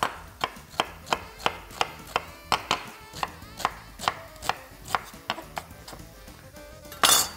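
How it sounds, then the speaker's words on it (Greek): A knife coarsely chopping an onion on a board, a steady series of about fifteen crisp, evenly spaced thuds up close, with a louder clatter at the very end and no talk. "ένα κρεμμύδι και αυτό το χοντροκόβουμε εδώ"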